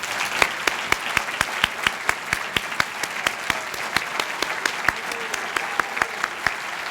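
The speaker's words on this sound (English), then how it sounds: "let's give them a round of applause" Audience applause at a Sonoma County awards ceremony, steady dense clapping from a large crowd with a few louder individual claps standing out, continuous for several seconds.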